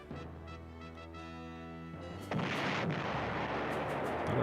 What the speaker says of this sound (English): That artillery is pretty damn effective.